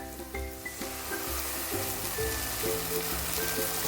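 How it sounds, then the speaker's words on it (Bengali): Ginger-garlic paste fries with browned onions in a pan for chicken ghugni, a soft, steady sizzle with light crackles over a background of faint musical tones. "দিয়ে কাঁচা গন্ধটা যাওয়া পর্যন্ত ভেজে নিতে হবে ভালো করে"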